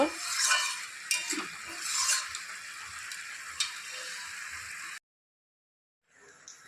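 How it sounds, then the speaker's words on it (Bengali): A spoon scrapes and stirs through bottle gourd and fish head curry in an open pot, with steady soft clinks and rustling for several seconds, then it stops. No one speaks. "ঢাকনাটা খুলে আবারও একটু নেড়ে চেড়ে দিচ্ছি"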